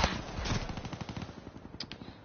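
Rapid automatic weapon fire from the video game Black Ops 3 rattles off in a fast, even burst that gradually fades, with a couple of sharper shots near the end.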